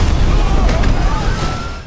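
Loud, continuous rumbling roar of aerial gunfire and booming explosions around Air Force One, a low heavy din that stays dense throughout and fades slightly at the end.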